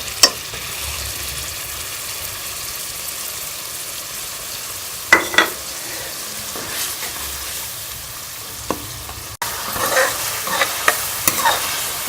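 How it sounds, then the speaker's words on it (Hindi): Tomato paste fries in a spoonful of ghee in a karahi, giving a steady close sizzle with occasional sharp scraping knocks of a spoon against the pan. "इसको थोड़ा सा हम भून लेंगे।"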